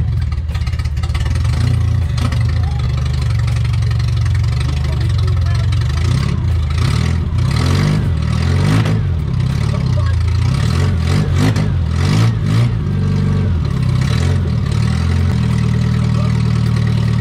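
An Austin Mini engine runs steadily at idle with a few throttle blips and revs rising and falling, loud and close throughout.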